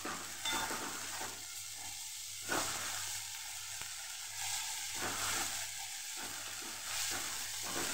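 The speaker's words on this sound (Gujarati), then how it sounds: "એને પણ લસણની કચાશ દૂર થઈ જાય ત્યાં સુધી આપણે એને સાતડવાનું" Garlic and ginger sauté in a hot pan for Gujarati garlic potato curry, a steady close sizzle and fry hiss with brief stirring scrapes and no voices.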